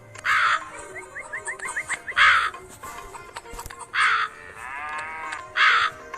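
Crows caw repeatedly in short, loud bursts inside the Meena mobile video game, set over a busy background of game sound effects and chirping tones, with no one talking.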